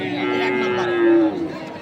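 A single bull at a cattle market lets out a long, low moo nearby, rising slightly before fading at the end.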